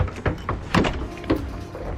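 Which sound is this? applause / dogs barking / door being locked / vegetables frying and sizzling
door being locked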